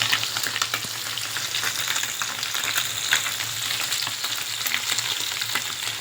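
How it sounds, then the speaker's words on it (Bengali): Fish frying in hot oil, a dense, steady crackling sizzle that holds evenly throughout, close and fairly loud, with no voices. "এদিকে মাছ ভাজিটা হয়ে গেছে দেখো বন্ধুরা"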